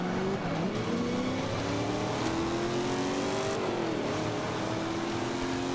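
Old car racing in Forza Motorsport 5, its engine revving hard with rising and falling tones as it shifts through the gears, loud and continuous, with faint tire squeal over steady track noise.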